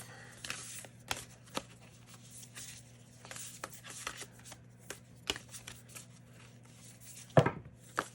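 A deck of tarot cards riffled and shuffled by hand, giving soft papery flutters and scattered light taps close up, over a steady low hum, with one louder knock near the end.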